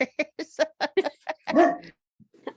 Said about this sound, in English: she was sleeping and just decided randomly to start barking